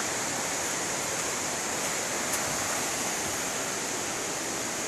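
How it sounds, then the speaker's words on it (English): Creek water rushing steadily beside a rocky forest trail in the Great Smoky Mountains, a continuous broadband roar close by with no talk. "So the creek's on my right now, it's on the left."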